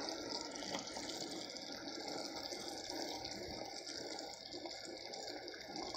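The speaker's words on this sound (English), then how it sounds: "About 6 minutes into the stream and it's already starting to boil." Sugar, water and corn syrup candy mixture boiling for vanilla candy, giving a steady, dense bubbling and hissing wash that stays constant and fairly close throughout, with no talking.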